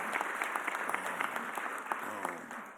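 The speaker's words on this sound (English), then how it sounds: "let's give a round of applause to our mayor" A crowd at a mayor's press conference claps for the mayor in steady, crisp applause that goes on for several seconds, with a faint voice underneath near the end.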